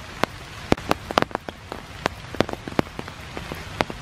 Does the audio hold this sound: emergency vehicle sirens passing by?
no